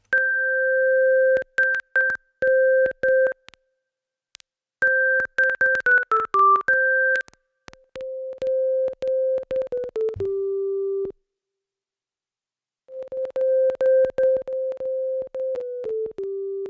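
A bad VST synthesizer plugin plays a run of pure, beeping sine-like tones that jump between steady pitches in choppy bursts, with gaps of silence. The tones are clean and electronic, with no voices.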